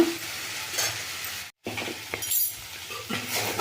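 Okra and onion fry in a pan while being turned, a steady close sizzle with occasional utensil scrapes and a brief drop to silence partway through.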